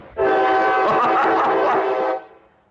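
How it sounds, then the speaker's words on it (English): A train rolls through a small American town, its loud sustained horn blaring close by for about two seconds before cutting off and fading. "Train."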